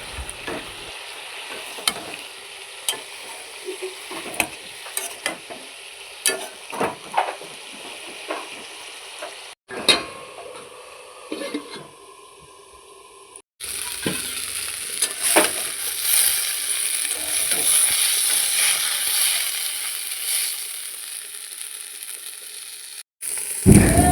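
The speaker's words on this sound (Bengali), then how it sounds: "এখানে আদা বাটা দিয়ে দিচ্ছি, ভালো করে কষিয়ে ঢাকনা দিয়ে দেবো।" Spices frying with ginger paste in a pan, heard as a steady close sizzle with frequent stirring scrapes, the frying growing louder and hissier in the second half.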